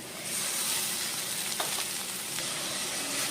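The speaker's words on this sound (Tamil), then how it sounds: "2 தக்காளி நான் குட்டி குட்டியாக சாப் பண்ணி சேர்த்துக்கிறேன்" Chopped tomatoes hit sautéed onions in a pan for prawn thokku, setting off a steady, close sizzle with a few brief stirring scrapes and no talk.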